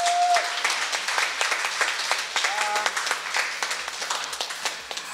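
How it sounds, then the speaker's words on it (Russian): An indoor audience at a publisher's open club meeting claps steadily, a dense patter of hands that holds evenly throughout and tapers slightly at the end. "Вот, аплодисменты!"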